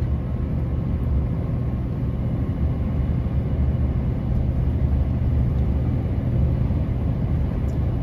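A truck's engine hums low and steady while engine braking in a lower gear on a snowy road near Samsun, a continuous drone of rumble with no talk.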